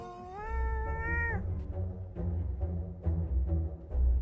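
A cat gives one long, loud, clear meow close by, then a stretch of lower rumbling noise with faint repeated sounds follows.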